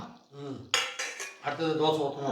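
Metal pots and utensils clank and scrape together in a home kitchen, with a sharp knock as a pot is taken off the stove and set down, followed by further rattling handling sounds up close.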